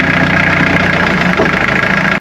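A forklift with a Peugeot engine runs at a steady, loud idle, a rough mid-low rumble that holds evenly before cutting off abruptly near the end, close by with no voices.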